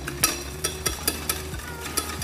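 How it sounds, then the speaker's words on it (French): A hand whisk stirs melted chocolate ganache in a bowl, giving a steady series of soft scraping clicks and swishes about four times a second, close and fairly quiet with no talking. "vous pouvez réaliser facilement la ganache au fouet"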